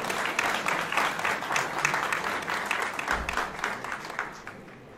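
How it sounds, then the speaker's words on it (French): Steady crowd applause at a gala evening welcoming a speaker to the stage, many people clapping together at an even level before it starts to thin out near the end. "sous vos applaudissements pour un petit mot d'accueil"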